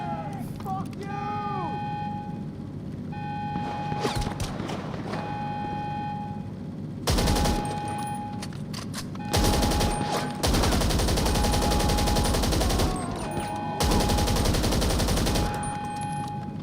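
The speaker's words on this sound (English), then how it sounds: "Mag dump." Automatic gunfire in GTA 5 Online, a whole magazine emptied in long sustained bursts broken by short pauses, loud and close, over a steady game background hum with scattered electronic tones.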